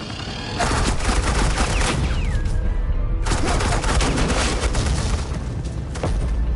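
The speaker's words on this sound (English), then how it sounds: "I said suppressing fire!" Sustained burst of suppressing gunfire in Batman: The Enemy Within, a dense, loud rattle of rapid shots filling the whole stretch with only a brief dip midway.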